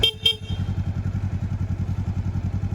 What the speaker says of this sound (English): That's one cool motorcycle.